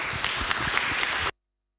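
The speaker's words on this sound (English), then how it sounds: "big round of applause for you" An audience at an open source policy forum claps together in a short, even burst of applause that cuts off abruptly.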